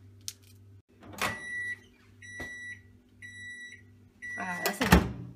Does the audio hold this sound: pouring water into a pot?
no